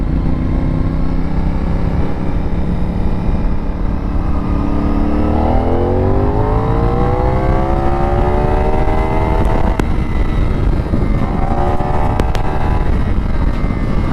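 A CFmoto 450NK motorcycle engine revs and pulls steadily while riding, pitch climbing through acceleration with a loud, close, continuous drone and brief rises near the end.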